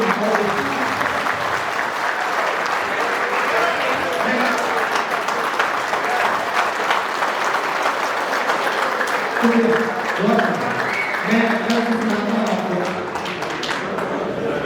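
An audience at a Republic Day poetry recital in Riyadh claps steadily, a loud continuous round of applause with a few voices calling out over it, fading slightly near the end.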